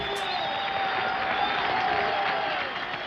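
A large crowd at a resistance meeting of local social action organisations applauds and cheers veterans, with dense, steady clapping and voices sustained throughout.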